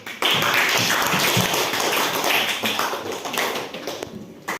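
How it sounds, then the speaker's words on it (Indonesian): Class of elementary schoolchildren clapping hands together in a classroom, a loud, dense burst of rapid claps that runs for about four seconds and then stops abruptly. "Ya, tepuk tangan."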